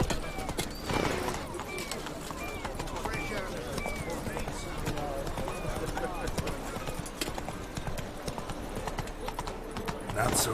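Horse hooves clip-clop at a steady trotting rhythm in The Witcher 3 video game, close and continuous, layered over a busy game soundscape with a brief whinny-like cry.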